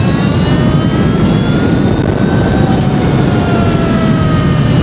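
A high-powered electric dirt bike, 80 horsepower in mode 5, surges under throttle with a loud, steady, rushing whine and wind roar that stays constant and close throughout.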